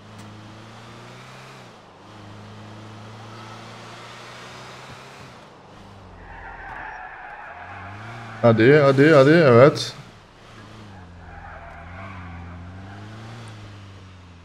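A car in Grand Theft Auto IV drives with a steady engine drone, then breaks into a loud, brief tire skid before settling back to a cruising hum. Someone talks over it.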